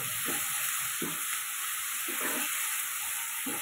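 Curry masala for a chicken curry sautéing in a pan after a splash of water, a steady close sizzle and steam hiss with a few soft stirring scrapes at regular intervals.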